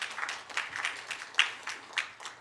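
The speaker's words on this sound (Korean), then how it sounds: "같이 박수로서 우리 환영하도록 하겠습니다" A church congregation claps during a Sunday morning service to welcome a guest, scattered, fairly soft hand claps with a few sharper ones standing out over a brief stretch.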